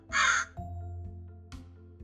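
Two crows perched on a branch outdoors give a loud, harsh caw followed by a second shorter call after a brief pause, over a steady low background hum.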